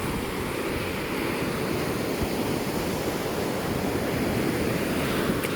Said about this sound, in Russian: Аж до отсюда волна дошла.